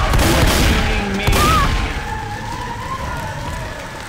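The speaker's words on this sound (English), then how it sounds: "Help! You're shooting me!" Gunfire from Left 4 Dead 2 bursts in a loud rapid volley at the start, then thins into scattered shots over a lingering electronic wail and noisy game ambience.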